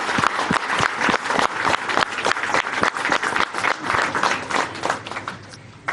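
Loud, vigorous applause from a standing crowd at a 75th birthday celebration, a dense wash of many hands clapping steadily that begins to thin toward the end.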